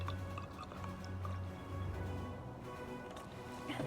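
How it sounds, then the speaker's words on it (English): Vinegar is poured into a mason jar over an egg, giving a quiet, close trickle and dripping of liquid that runs on without a break. "all we're gonna do is fill the jar up with vinegar."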